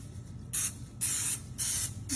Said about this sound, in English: we're gonna spray this with some nonstick spray.